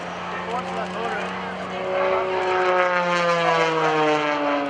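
An aerobatic propeller airplane at the 2012 NAS Oceana airshow drones overhead with a rising and falling engine pitch that swells louder, while an announcer talks over it.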